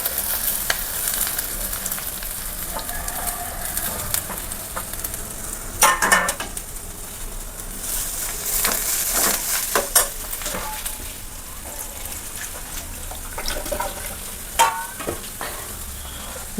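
Beetroot fries in a pan with a steady close sizzle while a utensil stirs and scrapes against the metal. The scraping comes in irregular bursts with a few louder clinks along the way.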